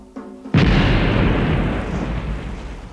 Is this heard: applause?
no